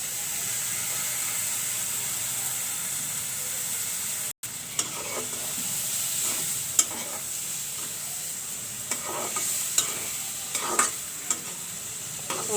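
Red lentils frying in a pan before taro greens go in, a steady sizzle and hiss with scattered scraping strokes of a spatula stirring them, close and alone.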